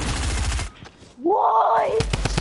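Rapid automatic gunfire from the game Fortnite, with dense bursts of shots at the start and again at the end around a brief rising and falling tone, loud and close.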